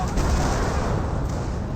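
Incendiary mortar fire in the Company of Heroes video game, a loud, dense, continuous roar of explosions and crackling fire that stays steady throughout the short burst.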